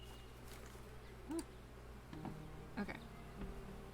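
A bee buzzes faintly in the farming game Apico, a thin, quiet drone with a few brief chirpy accents over soft background music.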